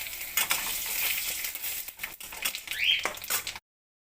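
Whole spices (dried red chillies, cardamom pods, bay leaves and cumin seeds) hit hot oil for a Bengali prawn curry, giving a steady crackling sizzle with a few sharper pops; it fades out abruptly near the end.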